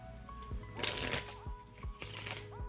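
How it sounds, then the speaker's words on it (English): A deck of playing cards is riffled and shuffled in the hands for a card-to-pocket trick, with two bursts of crisp, close fluttering card noise separated by soft handling sounds. "Give them a little bit of a shuffle."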